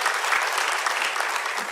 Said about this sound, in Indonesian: Beri tepuk tangan buat firman Allah